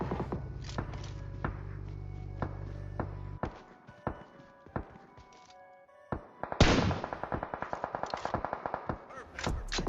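Gunfire in a battle royale video game: scattered single shots and short bursts, then a loud rapid volley near the end, with footstep-like thuds between, fairly close and clear with no talk.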